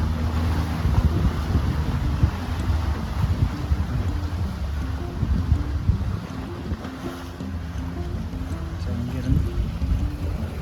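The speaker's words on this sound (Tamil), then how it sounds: "போட்டில் ஏறியாச்சு நாங்கள் கிளம்ப போகிறோம்" A motorboat carries passengers across open water near an island fort off Jaffna, Sri Lanka, with a steady engine drone, splashing water and heavy wind buffeting the microphone throughout. Voices are heard at times over the noise.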